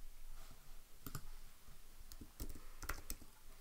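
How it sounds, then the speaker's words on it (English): Sharp, faint clicks from a computer mouse sound in small clusters near the one-second and two-and-a-half-second marks, quiet and close against a soft background. "I'm going to click New Quiz."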